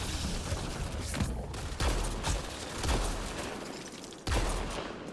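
Shotgun blasts in the sci-fi shooter game Mass Effect Andromeda, several loud booming shots spaced irregularly over a continuous noisy battle background.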